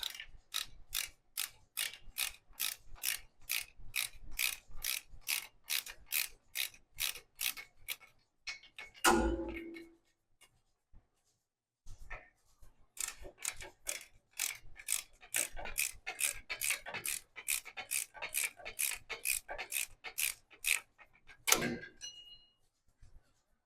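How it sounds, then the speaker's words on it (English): Ratchet wrench turning the backing plate bolts on the end of a 1963-87 C10 truck rear axle, fast even clicking runs, a brief clunk and pause, then another long clicking run, close and clear. "the next step will be removing the backing plate bolts. So it's these 4 bolts on the end of the axle."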